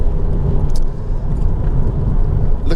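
Honda Civic 1.8 i-VTEC ES five-door on a test drive, a low steady engine and road rumble heard from inside the car, loud and continuous without speech.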